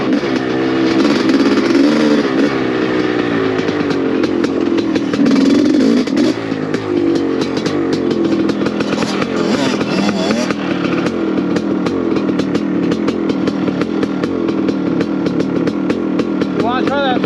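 Converted 1985 Honda CR500AF two-stroke motorcycle rides on desert trails. Its buzzing engine drones loud and close throughout, rising and falling in pitch as the throttle changes.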